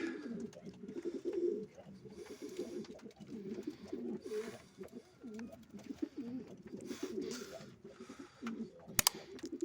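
Sport pigeons coo softly and repeatedly in low, throaty bursts, with faint rustling and a brief click near the end.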